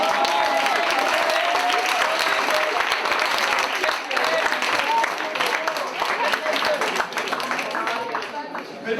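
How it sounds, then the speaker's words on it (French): A school audience at a slam poetry workshop in a lycée applauds for a sustained stretch, with dense, continuous clapping and some crowd noise, while a voice talks over it. "dans le slam, on applaudit jusqu'à ce que le poète arrive sur scène"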